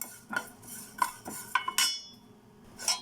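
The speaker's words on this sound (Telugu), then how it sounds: "ఇవన్నీ వేగిపోయి నువ్వులు దోరగా ఫ్రై చేసుకోవాలండి." Sesame seeds frying for a dondakaya nuvvulu roti pachadi get stirred in a pan with a metal spoon, producing several sharp clinks and scrapes at irregular intervals, close and quiet, with a soft frying hiss between them.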